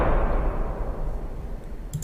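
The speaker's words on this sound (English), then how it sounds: "So the jump scare sound just sounds something like this." A heavy, booming low impact that hits at once and then rolls off into a long, reverberant rumble.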